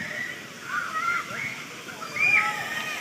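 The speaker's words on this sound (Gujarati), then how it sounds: "ત્યાં પાણીના ફુવારા ચાલુ થઈ ગયા છે" Fountains at an outdoor water park spray and splash in a continuous watery rush at a moderate distance, with a few faint higher tones over the wash.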